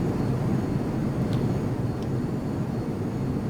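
An F-22 Raptor jet in the Prepar3D flight simulator gives a steady, loud broadband engine roar that holds constant throughout, with no talking.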